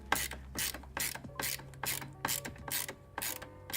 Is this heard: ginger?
no